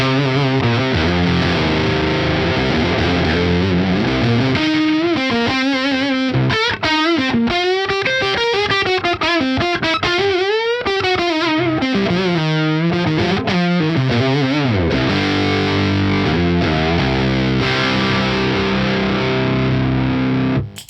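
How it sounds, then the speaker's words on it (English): Les Paul electric guitar tuned to drop C, played through a Warpig distortion pedal, loud, thick and saturated, with chugging low riffs, sliding bends and sustained chords over about twenty seconds, alone without talk, ending abruptly. "I thought I'll just plug the Les Paul in for the sake of it, just to see how it sounds. So it's in drop C as well."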